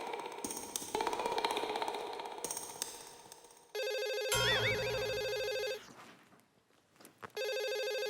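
A household telephone rings in a repeating electronic trill, loud and close, following a stretch of indoor clatter and background music; the ringing pauses briefly and then resumes.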